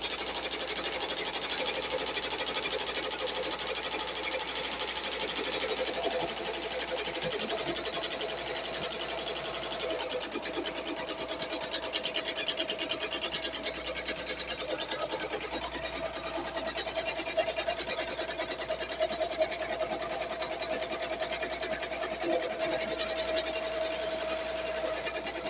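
A Bai Mirror 1501 embroidery machine stitching a design onto a hoodie runs in a steady, fast mechanical whir with rapid needle clatter, close and continuous, with no talk.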